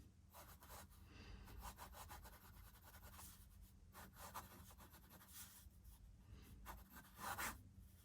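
A Jinhao X159 fountain pen with a fine nib scratches across paper in short, quick, close strokes, a dry rhythmic rubbing with brief gaps between letters and no talking.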